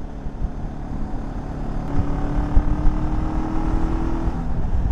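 A Zongshen Cyclone RX3S motorcycle engine accelerating from the rider's position, a close droning exhaust note that rises in pitch and grows louder as it pulls through the revs, with steady wind noise underneath.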